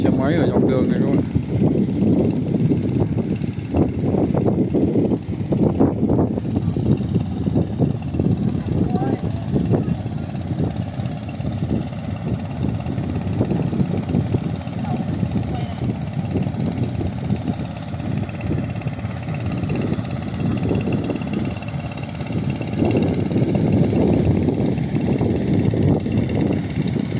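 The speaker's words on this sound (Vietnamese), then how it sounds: "Xe máy ở dọc đường này các bạn." Motorbikes travel along a roadside embankment at Thụy Việt commune, a steady mid-pitched engine drone with passing swells running under continuous talking throughout.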